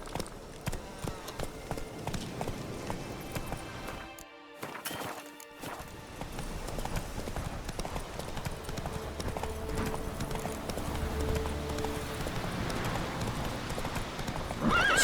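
A horse gallops in The Witcher 3: Wild Hunt, its steady clip-clop hoofbeats running close and loud almost throughout, with a neigh or whinny rising among them and a brief lull near the middle.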